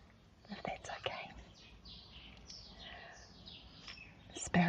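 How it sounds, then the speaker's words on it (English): Sparrows chirp in quick, bright bursts at a distance, with a soft whispered voice and a few close taps at the start and end. "Sparrows are very busy."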